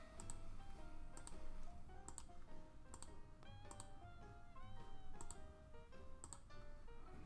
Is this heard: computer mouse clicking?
yes